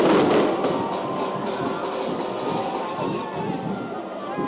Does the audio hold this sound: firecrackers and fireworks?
yes